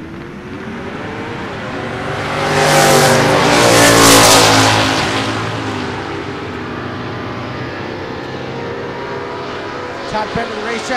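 A 1964 Ranchero and a 1971 Chevelle launch in a drag race, engines revving hard and building to a loud, roaring peak before fading as the cars pull away down the strip.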